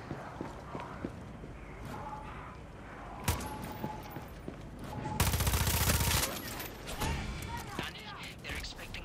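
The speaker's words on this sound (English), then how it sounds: "We keep shooting" Gunfire in the video game Far Cry 6, with a loud burst of rapid automatic shots in the middle and scattered single shots around it, set against game ambience and some talk.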